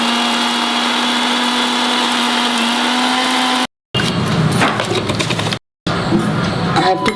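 A mixer grinder whirs loudly and steadily as it grinds Goan masala with vinegar for dry bombil recheado, runs in bursts with short stops, and the pitch shifts roughly as the paste churns.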